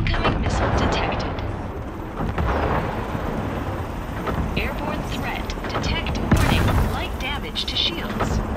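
In the CrossFire HD video game, incoming missiles and weapons fire pound continuously, with dense, close blasts and bursts layered over one another and game voice lines speaking throughout.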